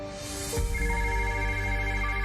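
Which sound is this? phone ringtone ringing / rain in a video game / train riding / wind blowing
phone ringtone ringing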